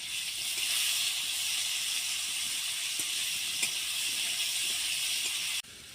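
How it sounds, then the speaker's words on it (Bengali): Cut potatoes frying lightly in hot oil with a little salt, a steady, close sizzling hiss that runs evenly throughout and drops away abruptly at the end. "এবার ওই তেলের মধ্যে আমি কেটে রাখা আলুগুলোকেও হালকা ভেজে নেব।"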